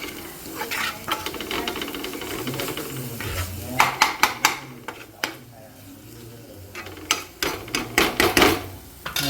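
A spoon stirs and scrapes through prawn masala fry in a pan, making repeated clattering strokes in bursts, with a low sizzle underneath and faint background sound.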